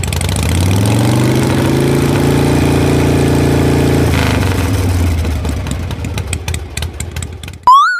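A motorcycle engine idles loudly and steadily close by, the rumble easing and turning rough before cutting off, with a brief high tone at the very end.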